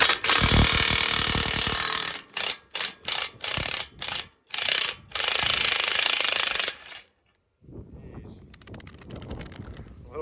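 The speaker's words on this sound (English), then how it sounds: "I'm gonna take out this bolt right now." Rusty bolt being worked loose with a ratchet: loud, rapid mechanical clicking and grinding in short bursts separated by brief pauses, then a quieter stretch of lighter ticking near the end.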